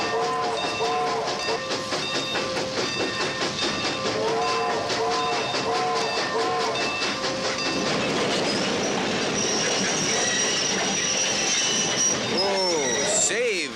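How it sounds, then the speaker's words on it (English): A steam train special effect on the Universal Studios tram tour rumbles steadily closer with whistle-like tones, clattering wheels and a loud squeal near the end, sustained and loud throughout. "One of the steam trains is leaving, John, and it's heading right this way."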